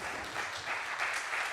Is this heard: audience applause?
yes